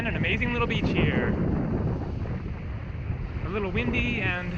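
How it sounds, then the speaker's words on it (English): Wind buffets the microphone on a beach in Kauai, a continuous gusty rumble with a person talking over it at the start and end. "A little windy"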